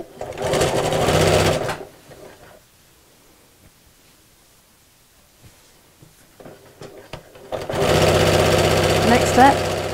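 A sewing machine stitches around the edges of a picnic blanket in two loud, close bursts separated by a quiet pause with a few faint clicks, and a voice speaks briefly near the end of the pause.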